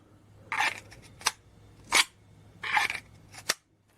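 A Shed Knives Conquest knife is drawn from and snapped back into a Kydex sheath, giving sharp close clicks and plastic scraping sounds in two quick pairs with brief rustles, no voices.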